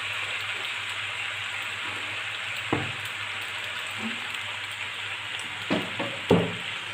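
Pasta sauce of soy sauce and tomato sauce sizzles in a pan with a constant close hiss, broken by a few scraping clinks as it is stirred together.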